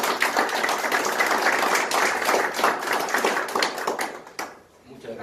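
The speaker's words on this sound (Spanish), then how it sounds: "pido un fuerte y caluroso aplauso" Warm audience applause greets a speaker at a human rights lecture, lively close clapping that tapers off and stops near the end.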